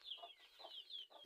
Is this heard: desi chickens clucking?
yes